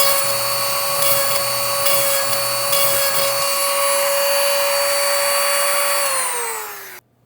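EzzDoo electric chainsaw sharpener running with a steady high motor whine and faint grinding against chain teeth, close and loud, before spinning down and stopping near the end.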